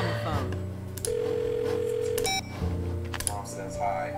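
Telephone dialing tones in the video game The Blackwell Deception: a long steady tone, then a few short bursts near the end, set over game music and background voices.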